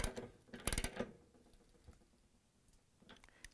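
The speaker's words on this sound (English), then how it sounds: "I'm going to use the 13/16 socket wrench, and we're going to tighten it," A 13/16 socket wrench tightens a gas burner on a Bosch, Thermador or Gaggenau cooktop, giving a quick burst of close, loud ratcheting clicks followed by faint scattered mechanical ticks.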